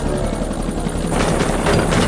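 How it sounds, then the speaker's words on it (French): Military helicopters fly overhead, their steady rotor thrum and engine buzz holding loud and close throughout, swelling slightly toward the end. "Deux hélicoptères sont envoyés à la position indiquée par Hambleton."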